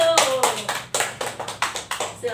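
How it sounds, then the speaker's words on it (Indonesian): An audience claps their hands at a classroom or training session, a burst of irregular, sharp claps lasting a couple of seconds at moderate loudness, with a low steady hum underneath. "Ya, tepuk tangan dulu."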